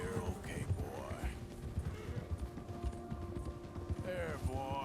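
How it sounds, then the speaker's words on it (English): Horse hooves clip-clopping at a steady walking rhythm while a rider is mounted, close and continuous, with some soft low talk and breathing mixed in. "riding a horse"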